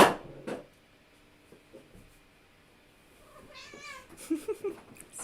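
A house cat meows a few times nearby, short and clear, after a quiet pause in a sewing-room setting.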